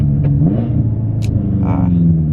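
A broken BMW M5 with faulty shifting idles close by, its engine a steady, deep, even rumble for the whole stretch with no rise in revs.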